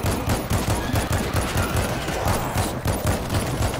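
Rapid automatic gunfire in the zombie shooter World War Z, dense continuous bursts close and loud, with a rhythmic thump of shots running throughout.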